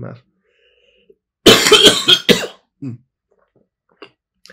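A loud, close cough bursts out in a short cluster of harsh hacks, with brief speech sounds before and after in an otherwise quiet room.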